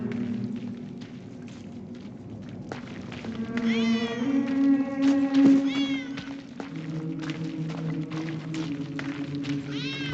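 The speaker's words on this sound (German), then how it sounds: "Wie zum Teufel kommt die Katze hier rein?" A cat meows in the WWI video game 11-11 Memories Retold: several drawn-out, wavering meows rise and fall over a low background hum, fairly close and clear.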